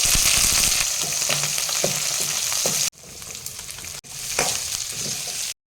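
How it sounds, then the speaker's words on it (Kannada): Loud, steady sizzling of mustard seeds, curry leaves, green chillies and onions frying in hot oil, with brief scraping stirs and two short gaps where the sound drops away. "ಈಗ ಒಗ್ಗರಣೆ ಕೊಟ್ಕೊಳ್ಳೋಣ ಸ್ವಲ್ಪ ಎಣ್ಣೆ ಹಾಕ್ಬಿಟ್ಟು ಸಾಸಿವೆ ಕರಿಬೇವು ಹಸಿಮೆಣ್ಸಿನ್ಕಾಯಿ ಈರುಳ್ಳಿ ಹಾಕ್ಬಿಟ್ಟು"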